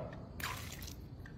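Half a cup of oil and a cup of water pour into a mixing bowl for an easy family dessert batter, a brief wet splash and gurgle in the middle against a quiet kitchen background.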